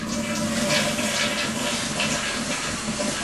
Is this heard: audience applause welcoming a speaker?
no